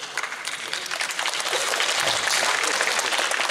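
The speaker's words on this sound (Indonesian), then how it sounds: "Iki tepuk tangan" Audience applause at a Sinau Bareng gathering with Sabrang MDP (Noe Letto), a dense wash of many hands clapping that builds and holds steady, loud and continuous with no clear talk.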